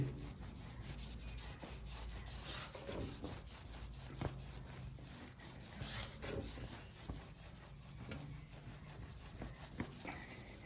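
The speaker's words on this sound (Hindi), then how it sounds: "अब करते हैं इसको रगड़ा मार के साफ भाई।" A cloth or pad rubs the chrome parts of a Royal Enfield Bullet motorcycle clean with continuous, rhythmic scrubbing strokes. The rasping is quiet and close, with no voices.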